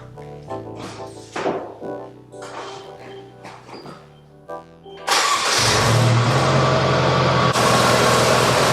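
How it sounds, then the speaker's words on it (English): A car engine cranks and catches, then settles into a steady loud idle that runs to the end; before it, several mechanical clunks and shuffling handling noises sound close by. "The first thing we need to do is start the car up"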